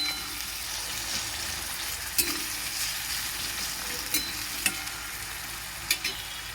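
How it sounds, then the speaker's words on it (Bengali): Fried potatoes are sautéed in a lentil curry base in a pan, with a steady even sizzle and a few sharp clicks of a spoon stirring against the pan. "ভেজে রাখা আলুগুলো দিয়ে দিলাম এটা মিনিট দিয়ে মতন কষবো"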